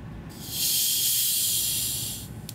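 Mets Cola, a carbonated cola in a bottle that was dropped, releases a loud, steady fizzing hiss for about two seconds when opened.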